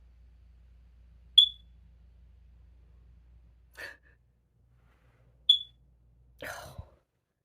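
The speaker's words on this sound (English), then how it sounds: "Oh, you're scared of the beeping?" A dying smoke detector chirps twice, short sharp high beeps spaced about four seconds apart in a quiet room, each followed by a soft breathy sound like a dog's sigh or snort.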